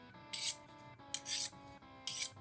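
A leather edge being rubbed with an old-school knife sharpener, three separate rasping strokes in close, quiet succession, each a short scraping burst, with no talk.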